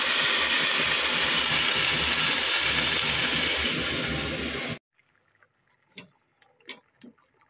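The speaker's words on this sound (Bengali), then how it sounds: "তো আমার এবারে ভাজা হয়ে যাওয়ার পরে জল ঢেলে দেবো, পরিমাণ মতো জল দিয়ে দেবো" Water poured into frying lentils for dal makhani in a pan, with a loud, steady sizzling hiss that cuts off abruptly, followed by a few faint clicks and taps.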